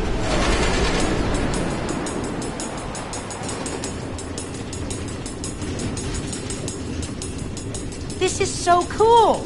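Trains run on automated tracks through the Nether in the video game Minecraft Story Mode, a continuous loud rumbling clatter that ends in a few rising, ringing tones.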